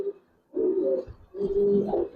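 Giribaz pigeons coo close by, soft throaty rolling calls in two or three drawn-out phrases with short pauses between.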